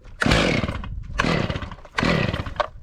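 A chainsaw engine fires and roars in three loud, close bursts, each revving up, then dropping off before the next catch, with no voices over it.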